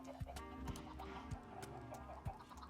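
Minecraft chickens cluck in a short run of soft, quiet clucks against the game's background sounds, with no one speaking.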